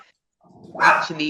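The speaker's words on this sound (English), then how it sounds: "My bad. That's my dog." A pet dog barks once, close and fairly loud, in a single sharp yelp with a short tail, right after a person says a brief word in a quiet room.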